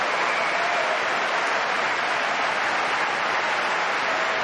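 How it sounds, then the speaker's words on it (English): Wimbledon tennis crowd applauding, a steady, dense wash of clapping from a large audience filling the whole stretch without a break. "Well, that's a wonderful response from the crowd, admiring what she's just given them right there."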